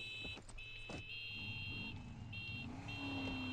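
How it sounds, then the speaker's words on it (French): A car horn honks in the video game Far Cry 6, a few bright buzzing blasts over a low idling engine, fairly quiet in the mix, with no talking. "Hey, là, arrête de me klaxonner, toi."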